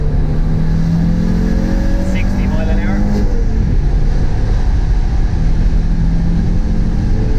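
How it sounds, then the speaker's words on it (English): An Audi GT Coupe's five-cylinder engine drones loudly and steadily under acceleration, heard from inside the cabin with someone speaking briefly over it. "Great sound off that 5-cylinder."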